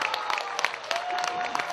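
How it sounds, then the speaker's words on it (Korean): An audience at a Korean traditional music (gugak) performance in Paju claps briefly, a soft, steady patter of many hands with a faint whistle-like tone running through it. "박수 한번 보내주세요."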